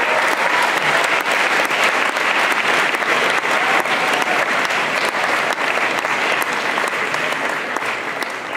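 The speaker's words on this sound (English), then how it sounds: "So Mr. Locke, let's give a round of applause." Sustained applause from a crowd at a senior banquet, dense and steady throughout at close range, with no pauses and only a slight tapering near the end.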